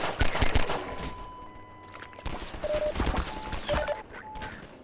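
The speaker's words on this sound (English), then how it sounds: "That was some terrible shooting there" Gunfire in the video game Half-Life, loud clustered shots and bursts mixed with crashing impacts and electronic game tones, fairly close, with no talking.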